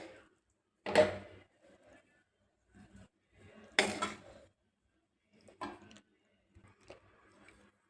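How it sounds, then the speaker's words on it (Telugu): Spoon mixing avakaya rice with ghee and dal powder in a pan: sparse clinks and soft scrapes, with a few sharper knocks against the metal and quiet gaps between them. "బాగా కలుపుకున్నాను."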